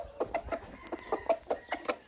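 A chicken clucks steadily in a farmyard, a rapid run of short, soft clucks roughly every fifth of a second, somewhat distant, with no talk.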